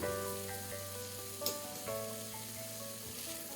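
Pre-fried peas and salt sizzle in a pan for matar paneer, a steady close frying hiss with a soft stirring scrape partway through.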